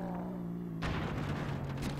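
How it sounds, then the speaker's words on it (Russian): A loud explosion bursts in the racing game Earn to Die 2, a sudden broadband blast cutting in over a steady engine drone and rumbling on to the end. "Вау, ребята, вот это взрыв."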